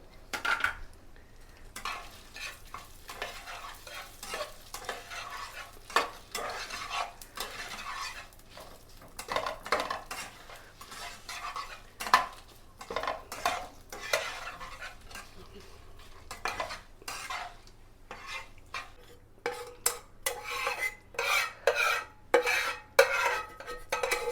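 Dried red chillies fry in hot oil while being stirred: irregular metal clinks, spoon scrapes and pan clatter come close and continuous, over a faint sizzle.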